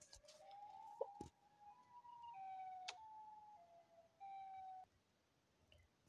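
Siren Head's siren wail in a video game, a faint, distant wavering tone that holds and shifts pitch in stretches, broken by a few sharp clicks.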